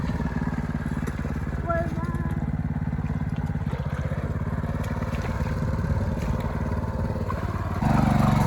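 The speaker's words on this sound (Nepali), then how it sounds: "ट्र्याक्टर तलै झार्न लागेको छ अहिले चाहिँ।" Steady, rumbling tractor engine running continuously nearby, a low chugging drone that grows slightly louder near the end.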